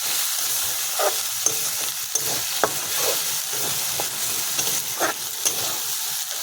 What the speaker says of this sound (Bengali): দেখুন আমার মশলা কষানো হয়ে গেছে, মশলার থেকে তেলগুলো ছেড়ে দিয়েছে।